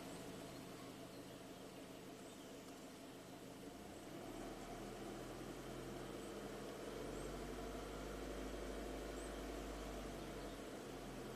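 Ford EcoBoost engine idling steadily while the throttle is blipped, a low continuous rumble that swells and deepens partway through and holds at a slightly raised, fuller drone to the end, with no talk.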